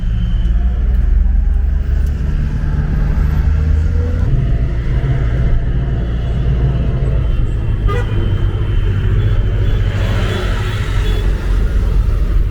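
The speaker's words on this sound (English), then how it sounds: "Traffic jam in Leh." Traffic jam in Leh, Ladakh: a loud, steady rumble of idling car and bus engines close by, with occasional horn toots and road noise throughout.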